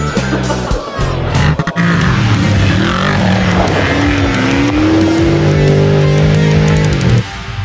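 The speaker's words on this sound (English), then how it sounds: "The all-wheel drive trophy truck that we're currently running, we're running a VR38 billet block engine in it" An all-wheel drive off-road trophy truck with a VR38 billet block engine roars loudly and steadily, its pitch rising and falling through revs in the mountains, with speech faintly mixed in.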